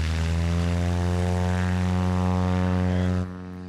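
A Cessna 172 backcountry plane with heavy-duty nose fork and larger tires taking off from a dusty strip, its propeller engine droning loud and steady at full power before dropping away sharply near the end.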